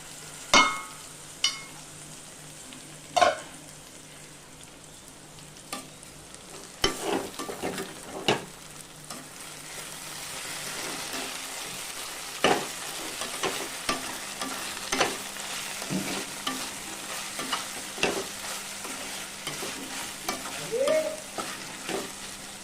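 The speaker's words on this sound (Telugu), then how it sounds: "ఒక 2 మినిట్స్ వంకాయలు అనేవి ఆయిల్లో మగ్గనివ్వండి." Eggplant pieces with ginger fry in oil with a soft, steady sizzle. Sharp clacks and scrapes from a stirring utensil strike the pan at irregular intervals, and no one talks.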